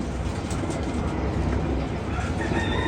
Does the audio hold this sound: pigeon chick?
yes